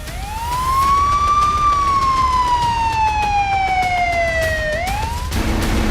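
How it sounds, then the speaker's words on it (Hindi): An ambulance siren wails, sweeping up, then slowly gliding down over several seconds before rising again, loud and steady with traffic rumble beneath, in war-struck Ukraine. "एम्बुलेंस के सायरन गूंज रहे हैं।"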